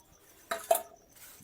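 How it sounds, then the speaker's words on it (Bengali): A metal wok set down on a gas stove in a home kitchen, two quick close clanks in succession followed by a faint lighter rattle, with no talking. "এই যে আমি গ্যাসের মধ্যে দিলাম কড়াই"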